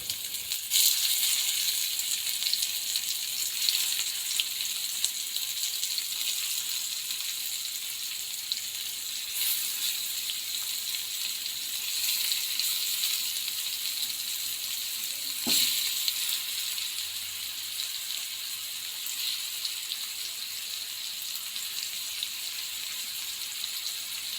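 Fish fries in a pan in a village home kitchen, giving a steady, even sizzle that runs throughout at moderate loudness, with a single faint knock partway through and no talking.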